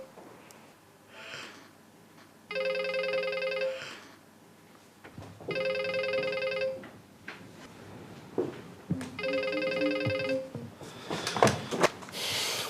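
A telephone rings in a law firm's office, sounding three times in evenly spaced bursts, each a steady trilling ring of a second or so, fairly clear with no voices.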